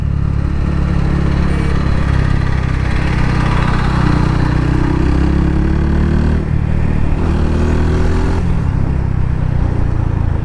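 Yamaha FZ 250 motorcycle engine running steadily nearby, a loud continuous low drone with a faint rising whine partway through, no talking.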